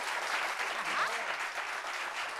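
Applause from a small audience at a meeting, a continuous patter of clapping throughout, moderately close, with no speech over it.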